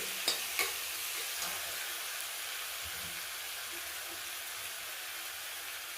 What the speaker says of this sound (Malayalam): തക്കാളി അരിഞ്ഞിട്ട് ഇട്ട് കൊടുത്തു